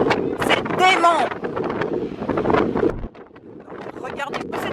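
Strong gusting wind buffets the microphone outdoors in Iceland near drifting water vapour, roaring loud and uneven, with a person exclaiming over it early on before the gusts ease slightly.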